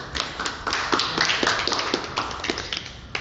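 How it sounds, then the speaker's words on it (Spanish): An audience at a tribute claps, a brief patter of scattered hand claps at moderate level, uneven and fairly close, without speech. "merece un aplauso, claro"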